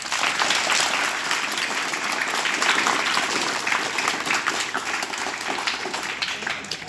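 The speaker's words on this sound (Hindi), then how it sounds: "तालियां बजाओ।" School audience applauding at a meditation session, a steady dense wash of many hands clapping together, loud and sustained without a break.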